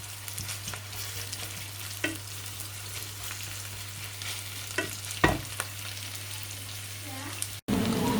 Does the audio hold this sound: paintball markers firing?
no